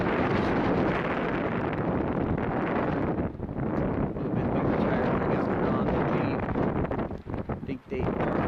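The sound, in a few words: strong wind blowing at campsite, wind noise on microphone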